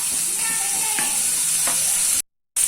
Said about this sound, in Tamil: இஞ்சி பூண்டு சேர்த்ததுக்கு அப்புறம் வெங்காயத்தை சேர்த்து நல்லா வதக்கிக்கலாம்